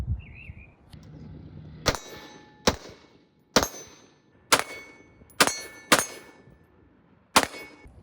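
AR pistol shots fired on a shooting range at a target, seven sharp, loud reports spaced roughly half a second to a second apart, each with a short ringing decay.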